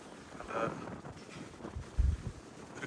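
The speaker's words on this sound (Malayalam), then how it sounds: "നല്ല കാറ്റുണ്ട്." Wind gusting across an exposed rocky hilltop viewpoint in a forested tourist area, a low rumbling buffet against the microphone that swells in short surges, with a brief murmur of distant voices.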